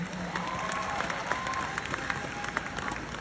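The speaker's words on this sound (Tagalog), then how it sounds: "Palakpak naman yan." An audience of online members breaks into dense, steady clapping mixed with faint crowd murmur and a few cheers, lasting a few seconds at a moderate distance.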